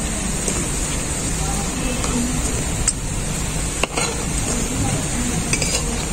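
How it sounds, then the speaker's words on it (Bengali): Soya bori fritters fry in mustard oil with a steady low bubbling sizzle, punctuated by a few light clinks of a utensil against the pan. "এখন আমি সয়া বড়িটাকে বড়া করে ভেজে নেব"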